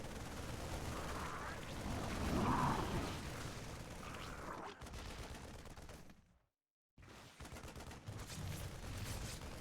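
StarCraft II battle with siege tanks and Marines firing, a dense, continuous rattle of gunfire and explosions, briefly cutting to silence before resuming, heard faintly under game commentary.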